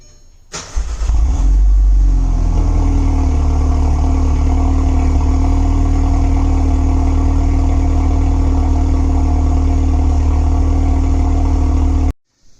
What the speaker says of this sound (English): I'll throw in a little audio clip of a cold start